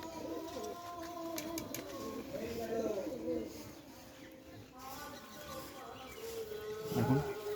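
A Giribaz pigeon coos in a few soft, throaty bursts, close by and partly under someone talking, with a louder coo near the end.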